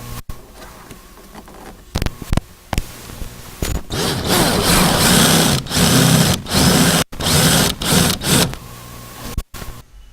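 A power drill whirs loudly at close range while drilling into a 1990-1996 Chevy Corvette door, in several bursts of varying length, separated by brief pauses and clicks.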